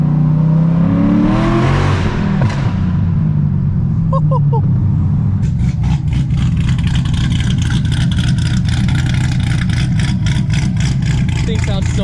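A straight-piped Corvette Z06 roars and revs hard while accelerating, its loud raw exhaust climbing in pitch then settling into a rapid crackling, misfiring burble, with a voice talking over it.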